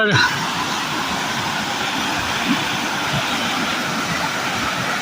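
A forest stream near Zer village runs in a steady, broadband rushing wash that holds constant throughout, like a small waterfall close by, with no talk.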